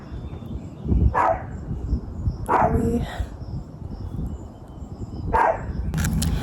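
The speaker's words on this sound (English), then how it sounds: "And my dog is barking." A dog barks a few times at a distance, short sharp yelps spaced apart over a low rumbling background.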